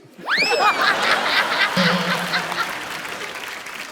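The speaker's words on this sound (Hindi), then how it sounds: "दे ताली" A studio comedy show audience bursts into laughter and clapping, beginning with a sharp, rising cackle of laughter and then a broad, continuous wash of applause and chatter that slowly eases.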